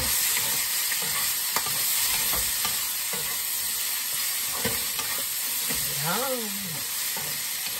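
Boiled squid stir-frying in a hot pan: a steady, close sizzle with scattered stirring clatter and spatula scrapes, plus a brief whistling squeak near the end.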